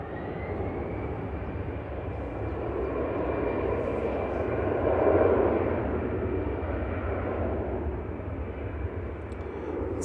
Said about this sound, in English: It's Lufthansa departing back to Frankfurt, second flight of the day. That's an A319 this time